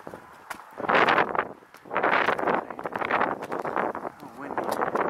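Gusty wind buffets the microphone in rough, roaring surges that rise and fall over a few seconds, with a voice briefly heard.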